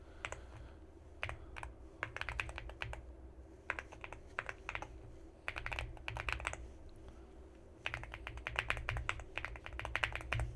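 Fingers tap out a password on a computer keyboard in irregular bursts of close, crisp keystrokes separated by short pauses, over a steady low background hum with no talking.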